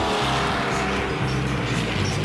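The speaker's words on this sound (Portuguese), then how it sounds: "Aqui, o ronco dos motores só conta metade da história." Race car engines roar loudly and continuously at a driving school track, a dense steady mechanical drone with no pauses and no voices.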